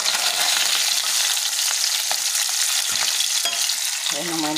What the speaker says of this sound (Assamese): গোটেই মাছকেইটা ভাজি ল'ম।